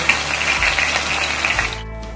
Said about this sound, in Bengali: এবার এতে করছে আদা আর রসুন বাটা। এটাকে কষিয়ে নেব।